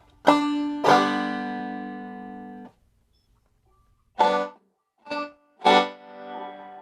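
Two distorted electric guitar notes ring out, then after a pause three short plucked notes sound in quick succession, each cut off.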